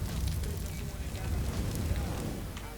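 Molotov fire burning in Counter-Strike: Global Offensive on the Inferno map, a steady low crackling roar and hiss that holds at an even level for a few seconds.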